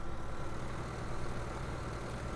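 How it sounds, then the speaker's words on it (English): A small 75-horsepower tractor idles in the video game Farming Simulator 2013, giving a steady, continuous low engine drone with no pauses and no voices. "I kind of like this tractor. I kind of like the size of it. It's a nice small tractor, 75 horsepower."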